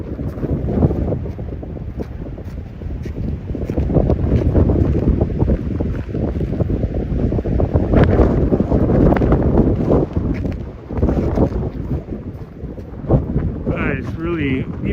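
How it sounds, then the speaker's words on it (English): Wind gusts buffet a microphone on a camera tripod outdoors at a lake, producing loud, continuous low rumbling that swells and dips, with a person talking faintly underneath. "It's a little windy."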